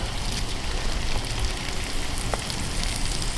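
Small morsels of steak sizzle in a pan over a twig stove outdoors, a steady close, even frying hiss running throughout with no talk.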